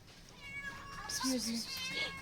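A cat meows once, a drawn-out, wavering call, close by and moderately loud, with faint background noise around it.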